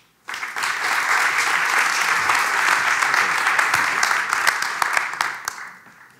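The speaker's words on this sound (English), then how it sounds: "So please give the floor to, and a warm applause for Maarten." An audience at an architecture academy lecture breaks into warm applause, a sudden burst of dense clapping that holds steady for several seconds before tapering off.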